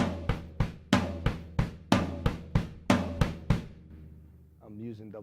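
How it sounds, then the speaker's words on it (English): A drum kit plays triplets split between hands and double bass drum feet, about a dozen evenly spaced loud hits in a steady rhythm, then a voice starts talking. "We're going to break up a triplet between your hands and your feet."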